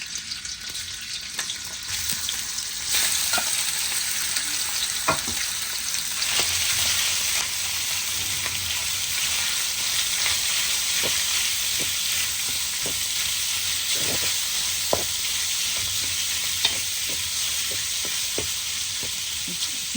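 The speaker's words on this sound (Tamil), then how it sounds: "சிக்கன் நல்லா கொஞ்சம் பொறிவழட்டும்" Chicken pieces fry in a little hot oil in a pan for kothu parotta, a continuous crackling sizzle with scattered pops and occasional utensil knocks, close and moderately loud, no voices.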